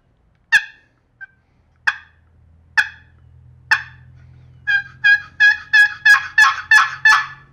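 A wooden box call imitates a wild turkey: five sharp, spaced single clucks, then a quickening run of about eight raspy yelps, loud and close with no talk.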